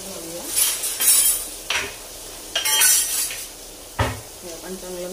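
Onion and tomato being stirred in a pan, a metal spoon scraping and clinking against the pan in several short separate strokes, close up, with a voice speaking between them.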